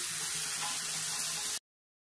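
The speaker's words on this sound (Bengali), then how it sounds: "তো চলো তরকারিতে জল টল ঢালি," Water is poured into a pot of fish curry with potatoes, making a steady, close rushing splash that lasts about a second and a half and then cuts off abruptly.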